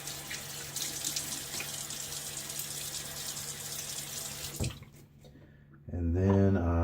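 Cold tap water running into a sink for wetting the face before shaving, a steady, close, rushing stream that cuts off briefly and then comes back louder and fuller.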